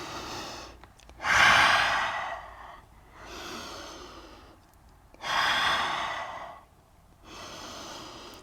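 Slow, deep breaths during a yoga forward fold, with long airy inhales and exhales alternating in a calm, close rhythm and no talking.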